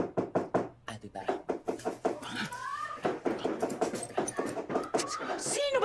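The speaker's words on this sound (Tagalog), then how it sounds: "Sino ba itong kumakatok na itong aga-aga?" Knocking on a door comes as a run of quick, sharp raps early on and again later, mixed in with lively overlapping talk in a comedy scene.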